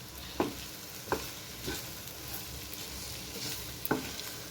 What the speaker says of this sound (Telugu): ఇవన్నీ మంచిగా కలిసేలాగా చక్కగా కలుపుకోవాలి